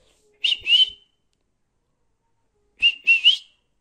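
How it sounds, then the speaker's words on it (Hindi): Two short bursts of human whistling, each a quick rising-and-falling two- or three-note phrase, sound clear and close as a person whistles to teach a pet parrot to talk, with a silent gap between the phrases and no talking. "एक एक एक बार सीटी मारते मारते"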